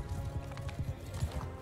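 A horse in the video game Mount & Blade II: Bannerlord clip-clops along in soft, quiet hoofbeats, a few uneven pairs of thuds against a low ambient bed.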